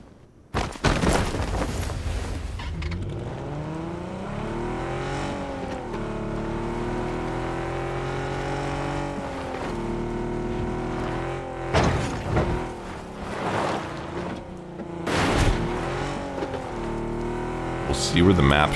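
A vehicle in the video game PUBG drives with a droning engine whose pitch climbs and falls as it revs and shifts, steady and close, with a few rough bumps and surges along the way.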